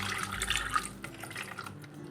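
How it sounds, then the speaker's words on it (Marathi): About a glass of water poured into a cooking pot of raw mangoes, a brief close splashing pour that trails off. "यामध्ये आता आपल्याला घालायचं आहे साधारणतः एक ग्लास पाणी"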